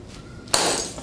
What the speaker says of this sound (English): Shatters like glass.